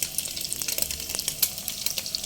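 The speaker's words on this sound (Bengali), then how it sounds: "গ্যাসের ফ্লেম লো মিডিয়াম আর মাঝামাঝি রেখে পনিরগুলো ভেজে নিতে হবে" Cubed paneer frying in ghee over low-medium flame for Badshahi polao, a steady close crackling sizzle with soft stirring scrapes, no talking.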